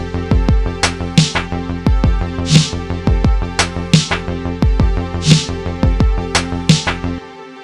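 Reversed beat layer in Logic Pro with a fade-in, a loud rhythmic loop of swelling reversed hits and deep booming pulses repeating steadily, with no talking, ending abruptly near the close.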